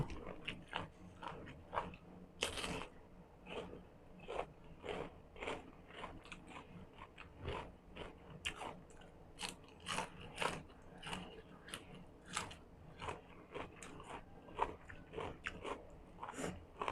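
Close, crunchy chewing of fresh vegetables with a sour dipping sauce, served alongside beef and liver dishes; quick irregular crunches continue throughout with brief pauses between bites.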